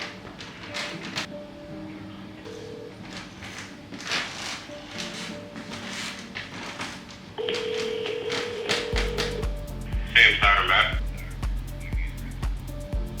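A telephone call rings through a handset, with dialing tones and electronic beeps over faint background noise, ending in a louder ringing burst.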